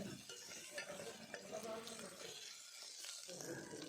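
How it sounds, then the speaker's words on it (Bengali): Ginger, garlic and onion stirred together in a hot pan, a continuous soft sizzle with scraping spatula strokes, fairly loud and steady throughout. "আদা রসুনটাকে একসঙ্গেই দিয়ে একটু ভালো করে নাড়াচাড়া করে নেব"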